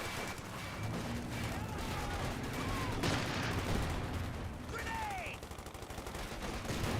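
Dense battle noise from Company of Heroes 2: steady rattling gunfire, a heavy 50 cal machine gun and grenade blasts keep up throughout, with sharp crashes standing out over the din.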